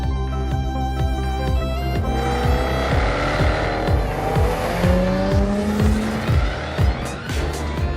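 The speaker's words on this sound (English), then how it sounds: "test driving the all-new Jaguar F-Type, the first two-seater sports car from Jaguar in over 50 years" An all-new Jaguar F-Type two-seater sports car is driven hard on roads in northern Spain, its engine revving steadily as the tires squeal and skid through corners, loud and close throughout.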